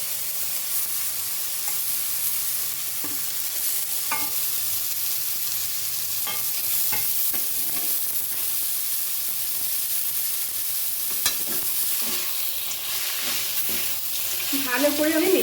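Broken bori lentil dumplings with fried potato and ash gourd sizzle steadily in a pan, with occasional spoon scrapes and taps as the mixture is stirred, then a brighter hiss near the end.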